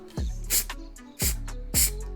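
Primer hisses from a spray can onto a 3D-printed car hood emblem in three short, loud bursts, close up, with brief pauses between them.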